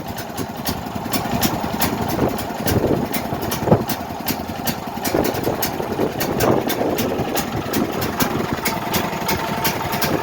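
Duramax 8500 dual fuel generator running slowly on propane, a loud, steady mid-pitched engine drone with a regular pulsing beat and mechanical rattle, close and continuous throughout.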